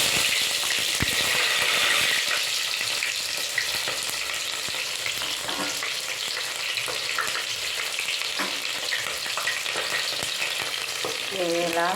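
Mustard seeds, cumin, fenugreek and onions frying in hot oil for a fish curry, a loud, dense, continuous sizzle with occasional stirring scrapes, close up and with no voices.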